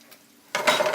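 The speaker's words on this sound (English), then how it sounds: "And here we go. Sizzle." Silence, then a sudden loud sizzle bursts in halfway through and keeps crackling steadily as Italian sausage hits hot oil in a frying pan over medium-high heat.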